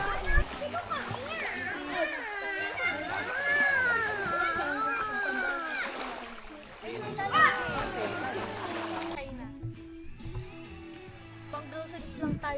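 Children swimming and playing in clear, warm water at a beach campsite in Puerto Salingkapo, their voices and shouts overlapping with nearby adult talk over a steady high hiss.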